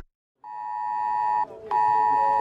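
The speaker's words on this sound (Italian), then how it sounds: "Questo è un messaggio ET Alert, il sistema di allarme pubblico" An IT-alert public emergency warning tone from Italy's national alarm system: a loud, steady electronic tone held for about a second, briefly dipping and shifting, then resuming at full strength, with no voices.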